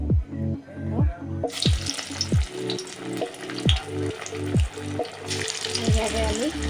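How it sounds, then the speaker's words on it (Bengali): Cabbage pakoras frying in hot white oil in a kadai give a steady, close sizzle with a bright hiss that swells after the first second, while a person talks over the cooking throughout. "এখন আমি বাঁধাকপির পকোড়াগুলো ভেজে নেব"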